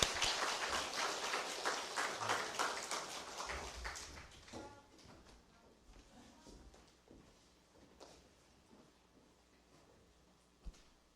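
Applause welcoming a singer at a church service for a new building's dedication, a dense patter of clapping for about four seconds that then thins out into sparse scattered claps and faint room noise, with one sharp knock near the end.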